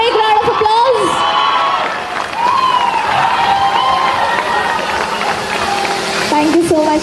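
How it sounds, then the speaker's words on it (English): An audience at an annual day celebration claps and cheers in a sustained wash of applause, with whoops and a voice rising over the crowd. "Can we give all the values a big round of applause?"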